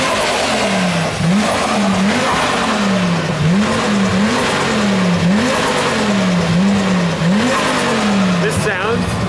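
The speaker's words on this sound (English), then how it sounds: "It's like you can actually hear both turbos." Audi TT Clubsport with a 600HP biturbo engine and AWD, revving hard in repeated rising sweeps, loud and close throughout, with tire squeal and spoken voices over the engine.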